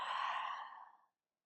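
A single soft, breathy exhale during a yoga flow, heard close up. It fades out after about a second, leaving silence.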